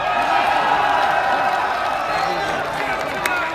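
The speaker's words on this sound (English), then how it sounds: "And the crowd is going, wow" Arena crowd at a December 2016 WWE NXT event in Las Vegas during the Shinsuke Nakamura vs Bobby Roode match, a loud continuous roar and cheer under a commentator's voice.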